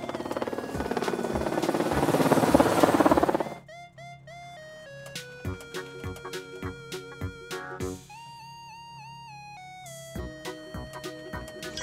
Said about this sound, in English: Helicopter. Helicóptero.